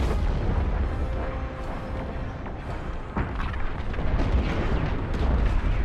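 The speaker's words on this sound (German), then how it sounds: "Die Fregatte wird gleich explodieren!" A frigate blowing up in the space-combat game Star Wars Squadrons, a dense, continuous roar of rumbling blasts and booms with deep low-end weight, sustained and loud throughout.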